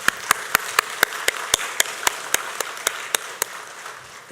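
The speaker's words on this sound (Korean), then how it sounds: "우리 박수로 한번 축복하겠습니다" A church congregation at a Wednesday service claps in applause for its Sunday school teachers, about sixteen crisp, evenly spaced claps in a steady rhythm, close and clear, then stopping.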